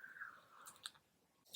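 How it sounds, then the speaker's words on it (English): Soft, faint biting and chewing on a pecan cookie, fresh from the oven and crunchy on the bottom, heard close up with a small crunch midway and no talk. "And we're gonna try the cookie."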